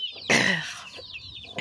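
White Kuchinsky chickens with their growing chicks, a short harsh cluck close by followed by faint high peeping from the chicks.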